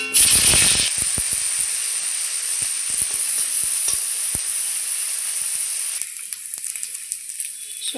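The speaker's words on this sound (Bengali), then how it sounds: "কড়াইয়ে তেল দিয়ে দিয়েছি গরম হয়ে গেছে দিয়ে দেবো শুটকি মাছগুলো" Small pieces of dried fish hit hot oil in a kadhai with a loud burst of sizzle that settles into a steady hiss, punctuated by sharp clicks and scrapes.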